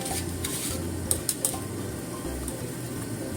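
Sweet potatoes simmer in a pot of water for an apple and sweet potato dessert. A steady soft bubbling hiss runs over a low hum, with a few light utensil clinks near the middle.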